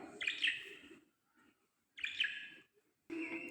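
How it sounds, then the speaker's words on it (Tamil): Pet lovebirds at home giving bright, harsh chirping bursts in two or three short flurries, close and fairly loud, with brief quiet gaps between. "இது எங்கள் வீட்டு லவ் பேர்ட்ஸ்."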